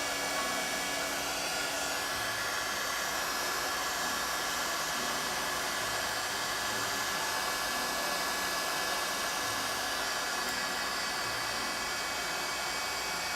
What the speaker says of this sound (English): You can hear me and the hairdryer good